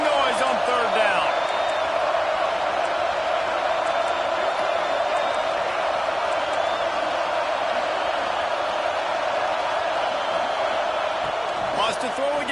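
Football stadium crowd noise on third down at a Nebraska vs Georgia game, a steady, loud roar of fans sustained throughout, with a few sharper shouts near the start and end.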